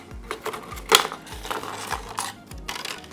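Giant Mouse GMF1 knife blade cutting through plastic: a string of close, crunchy crackles and snaps at an uneven pace, with one sharper crack near the start.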